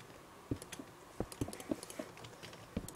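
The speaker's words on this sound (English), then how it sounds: "It's a bit clicky. My mouse is a bit clicky. My keyboard's a bit pressy." Crisp, clicky computer keyboard and mouse, a quick irregular run of close-up key presses and clicks, fairly quiet with no talking.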